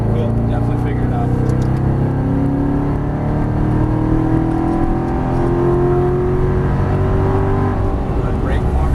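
A C7 Corvette Stingray on a Las Vegas track powers forward with a loud, steady engine drone and rising whine close by, while an instructor's voice talks over it.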